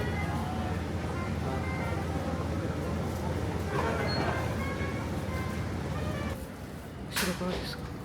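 Steady broadband rumble and rush inside a moving Shinkansen bullet train carriage, a continuous close drone with a brief sharper clatter near the end.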